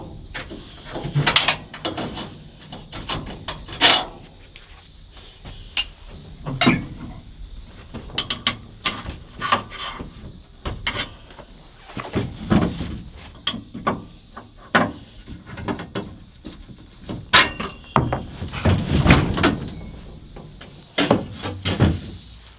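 Intermittent metallic clicks, clunks and scrapes as pins are pulled to remove a center divider and shelves, sharp irregular knocks spread across the whole stretch with quiet gaps between them.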